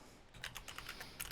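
Rapid clicking keystrokes come from a faulty computer keyboard, a quick irregular run of close, crisp taps after a brief quiet start.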